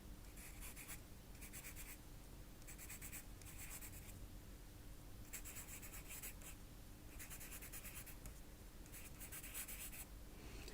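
Pen scratching across paper while a title is handwritten for a botanical watercolour lesson, heard as short repeated bursts of writing strokes in a quiet room, with no talking.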